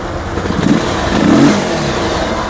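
A Bajaj Pulsar 220 motorcycle, freshly serviced after full engine work, revs up in two short swells from around 1000 rpm idle, the second longer and louder, close by with no talk.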